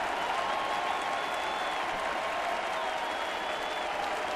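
A sellout baseball crowd at Toronto claps and cheers steadily, a loud, dense roar of applause that holds without a break.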